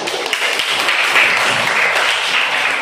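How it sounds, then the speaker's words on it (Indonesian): A school class of seventh graders applauds after a presentation, a brief, loud, close patter of many hands clapping together without pause, with no talking over it. "Sekali lagi, aku tepuk tangan untuk kelas 7A ya."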